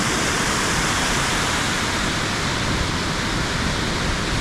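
Gale Beck, a peat-stained stream in the hills near Hawes in the Yorkshire Dales, rushes loudly and steadily, a dense, unbroken roar of fast water close by with no voices.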